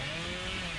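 Chainsaw wielded by the killer Bubba in the horror video game Dead by Daylight, a brief steady buzzing drone, close and loud, heard alone.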